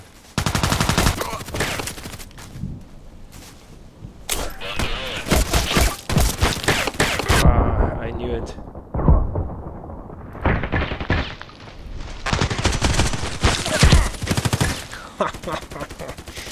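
Rapid automatic gunfire from weapons in the online shooter Contract Wars, with loud dense bursts of shots through most of the stretch, a brief lull in the middle, then more sustained firing.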